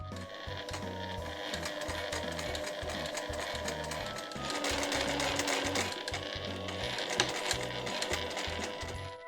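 A sewing machine stitches Marimekko fabric for a gathered skirt, running close and steady in a rapid rhythmic chatter of needle strokes, with short pauses and bursts and no talking.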